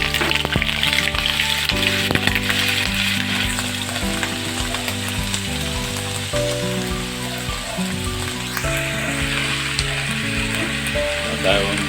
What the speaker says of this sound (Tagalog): Ipiprito mo muna natin siya.